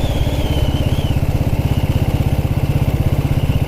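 A 1929 Black Ariel vintage motorcycle engine chugs steadily while riding, its low single-cylinder beats pulsing in a fast even rhythm, loud and close, with a faint whine above.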